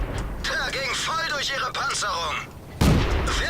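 Tank cannon fire in World of Tanks, aimed at a UC 2-pounder, a single sharp boom near the end after a stretch of talking.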